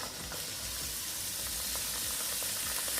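Onion, scallion and garlic sizzle steadily in warm butter in a pot, a dense continuous frying hiss with faint crackles and occasional stirring ticks, close and even throughout, no voices.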